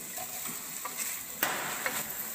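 Carrots sizzle steadily in a hot pan while a utensil stirs and scrapes through them, with a few sharper clinks standing out over the continuous frying hiss.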